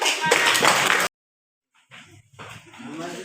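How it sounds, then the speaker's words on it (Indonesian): A classroom audience gives a short burst of clapping after a student group's presentation. The applause stops abruptly after about a second, and a voice then talks in the quiet room. "Kita berikan aplaus"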